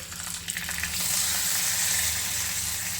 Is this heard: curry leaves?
yes